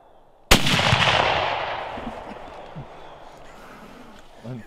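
A single loud, sharp rifle shot rings out close by during a public-land elk hunt in Michigan, its report rolling off into a long fading echo across open country, with faint movement sounds afterward.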